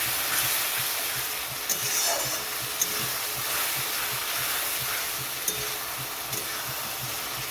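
Turmeric, Kashmiri chilli powder and other ground spices sauté for bhola fish kalia, making a continuous loud sizzle with soft stirring scrapes and a faint low rhythmic thumping underneath; no one speaks.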